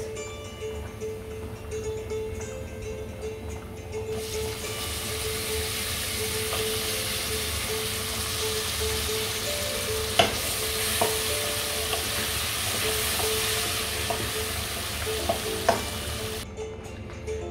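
Potatoes fry in a pot of cooking dal, a strong continuous sizzle that swells after a few seconds and holds steady, with occasional scraping and knocking as they are stirred, and no talking.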